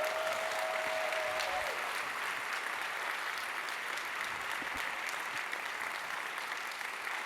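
Steady applause from a crowd fills the space, a dense even wash of clapping that holds for several seconds.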